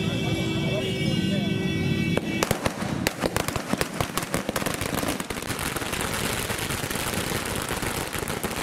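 Firecrackers set off by party workers at Azad Chowk in Valsad burst in a loud, rapid, continuous crackling string that erupts after a brief tonal opening and carries through to the end.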